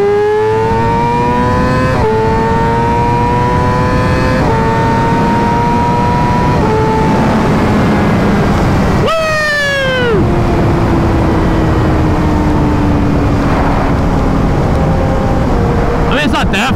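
A Yamaha R6 600cc sport motorcycle revs hard through the gears, its loud, close engine whine climbing in pitch and dropping with each shift in quick succession, while a rider's voice is also present.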